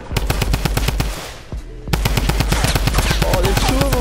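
Rapid automatic gunfire in the battle royale video game Fortnite, dense bursts of shots rattling almost continuously, a brief lull in the middle, then renewed sustained firing close and loud.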